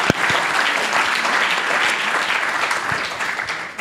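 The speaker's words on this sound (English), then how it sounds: "I just would like everyone to give a big round of applause to a fantastic panel" A conference audience gives a closing plenary panel a big round of applause, loud, dense clapping from a large crowd sustained evenly throughout before fading slightly at the end.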